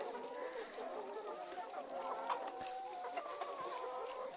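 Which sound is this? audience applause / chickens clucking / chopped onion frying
chickens clucking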